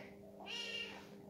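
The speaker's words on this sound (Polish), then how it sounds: "kotek jest niedobawiony i się pcha cały czas" A kitten of about four months, restless and pushing for attention indoors, gives a single short, fairly close meow in the middle of a quiet room.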